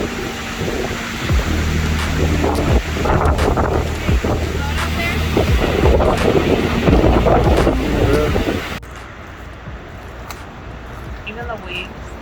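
Ocean waves curl and break into white foam along the rugged Cape Lookout coast in the Pacific Northwest, a steady broadband wash roughened by heavy wind buffeting the microphone, then dropping to a quieter, calmer surf.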